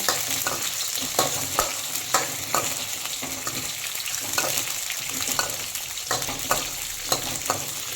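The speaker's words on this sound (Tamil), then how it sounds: "கத்திரிக்காய் போட்டுருந்தோங்க எண்ணெயில்." Brinjal frying in hot oil, a continuous close sizzle with regular stirring scrapes every half second or so, no voices.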